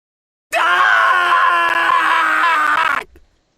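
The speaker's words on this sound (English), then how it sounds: "You cut his hand off. He screams in pure and absolute agony" A video game character from Bloodmoney screams in agony after his hand is cut off, one loud sustained anguished cry lasting a few seconds, close and alone before breaking off abruptly.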